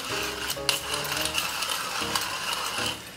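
A pepper mill cranks out black pepper over a pan of spicy marinara tomato sauce in a kitchen, giving a close, rapid ratcheting grind in several short bursts with brief pauses between them.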